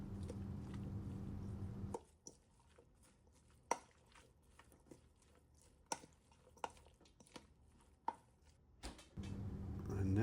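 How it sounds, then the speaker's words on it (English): Big wooden spoon stirring and folding corn pasta salad ingredients, giving soft wet squishes and scattered sharp clicks against the bowl, intermittent and close, with quieter gaps between strokes. "Grab ourselves a big old wooden spoon here in a moment. And we're going to start to blend all of these ingredients together."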